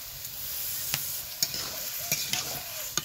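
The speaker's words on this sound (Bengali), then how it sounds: "এইভাবে একটু খুন্তিতে খুব ভালোভাবে মিশিয়ে দিব" A spatula stirs cabbage and potato with ground rice, sesame, green chilli and ginger pastes in a pan, a soft sizzle broken by several sharp scrapes and taps at uneven intervals, close by and without voices.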